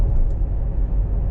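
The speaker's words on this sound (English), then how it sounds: "see how much of the road noise it picks up." Road noise inside a moving car: a steady, loud low rumble from tyres and cabin, droning on without break for a brief stretch.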